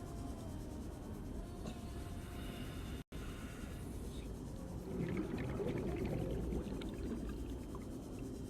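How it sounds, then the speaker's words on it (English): A long, low whale call echoes through the empty open ocean of the game Subnautica, sounding moderately loud over steady underwater ambience. "Friendly whale sound, maybe?"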